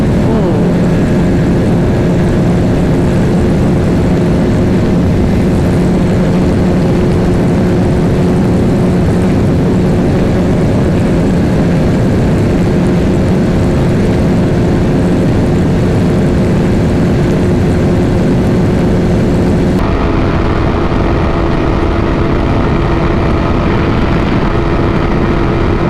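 Motorcycles racing at full power, a Yamaha R15, Bajaj Pulsar RS200 and Pulsar 220F, make a loud, steady engine drone at high revs that holds for the whole stretch with a slight shift in tone near the end.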